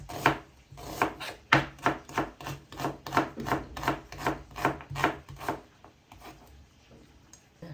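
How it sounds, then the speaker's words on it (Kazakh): A knife chops onions rapidly on a cutting board, about a dozen crisp, evenly spaced strokes that slow and fade toward the end. "Жуамызды майда қылып тураладық."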